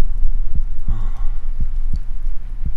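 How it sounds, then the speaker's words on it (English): Heartbeat effect in the horror video game Minds Eyes: low, muffled thumps repeating at a steady, slightly quick pace with a faint hum and background noise, heard alone. "Or is that my heartbeat?"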